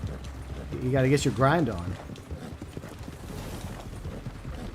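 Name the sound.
horse hooves in video game Red Dead Online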